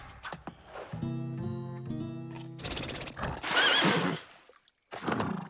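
A loud, shrill horse whinny rises and falls, followed by snorting and rustling, close by with no talking.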